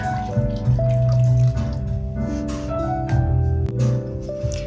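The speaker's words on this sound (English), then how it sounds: "I'm adding 2 more cups of water." Water poured into a soup pot of garden vegetable broth in a cabin kitchen, a steady close pour running for several seconds without any talk.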